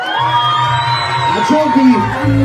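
A live concert crowd whoops and cheers for a singer, loud shouting rising over a voice speaking into the microphone.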